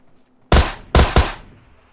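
Three sharp gunshots crack out in PUBG Mobile Lite, two close together and a third just after, loud and close against a quiet background with a short decaying tail.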